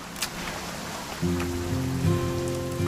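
Rain patters steadily on surfaces in the video game What Remains of Edith Finch, a soft, continuous hiss with a low sustained musical hum entering partway through.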